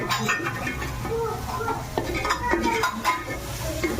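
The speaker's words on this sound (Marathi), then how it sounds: "चांगला परतून घ्यायचा म्हणजे टेस्ट चांगली आहे" Onion and tomato are sautéed in a pan for vatana rice, with a loud, close sizzle and repeated scraping and clinking of a spoon against the pan.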